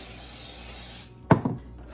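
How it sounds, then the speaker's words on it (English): Two quick bursts of cooking oil spray hiss out onto potatoes in close succession after a steady background hum cuts off. "I'm spraying them with oil"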